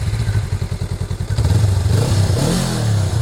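A 2017 Honda CMX500 Rebel cruiser's 500 cc engine chugs in a rhythmic idle, then revs up loudly and close before settling back down.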